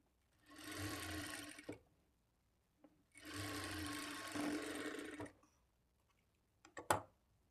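A sewing machine stitches the dots on a blouse front panel in two close, steady bursts of rapid whirring, each about a second or two long, separated by quiet pauses and followed by a few clicks.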